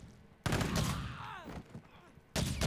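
Gunfire in the zombie survival game State of Decay 2, two loud bursts of shots, one near the start and one at the end, with a voice speaking briefly between them.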